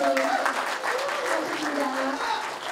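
A crowd claps steadily and loudly throughout at a year-end community banquet, with voices mixed in over the applause.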